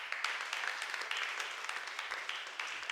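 A church congregation at Holy Mass applauding, a dense, steady wash of many hands clapping at moderate distance, without talk.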